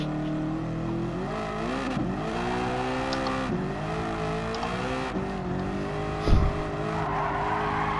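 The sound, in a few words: Toyota Supra racing in a video game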